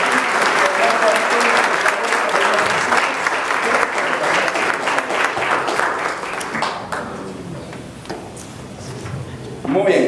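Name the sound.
church congregation applauding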